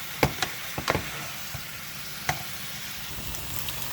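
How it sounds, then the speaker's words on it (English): Chicken and sausage fry in a pan for a creamy pasta, giving a steady sizzle with a few sharp clicks and knocks as a utensil stirs through the pieces, all close and without talk. "And now I'm gonna stir it. And I'm gonna let this cook and catch a good color."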